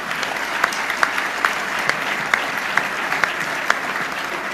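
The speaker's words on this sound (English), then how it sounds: "Let's have one more round of applause for everybody on the head table." Steady applause from a large audience at the Radio Television Correspondents' Dinner, a dense, continuous wash of clapping that goes on without a break.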